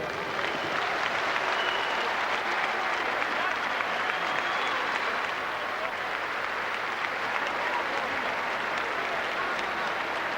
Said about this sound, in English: A round of applause for the game challenge of Jose Badillo